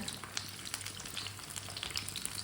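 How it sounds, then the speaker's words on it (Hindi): A breakfast dish fries in a pan and is turned over on both sides, with close, busy sizzling and popping and a few light scrapes throughout, and nobody speaking. "अब दोनों साइडों से उल्टाते पलटाते पका लेते हैं"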